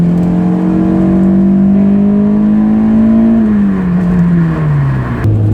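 A Honda S2000 engine revs hard on a windy road, its loud, steady note climbing and holding high before dropping away near the end, with no talk over it.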